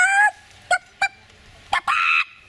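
A voice imitates a hen clucking: several short squawking bursts with a longer squawk at the start and a sustained one near the end, loud and close, with no other talk.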